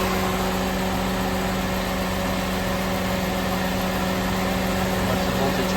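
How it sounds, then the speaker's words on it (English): A car engine idles steadily up close in a workshop while the EGR valve is opened and the idle speed eases down, a constant mechanical drone with cooling fans running and no speech. "you can hear the idles decreasing"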